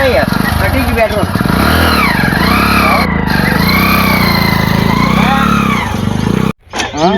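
A motorcycle engine runs continuously, revving up and down with a rising and falling drone, while people talk over it. It cuts out abruptly near the end.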